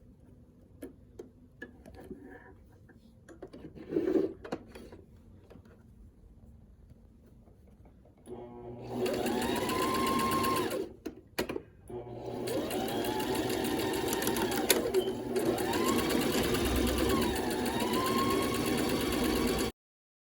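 A sewing machine stitches down the tan and black sides of an overgarment, running loudly in long steady bursts with brief pauses, after a quieter stretch of handling at the start.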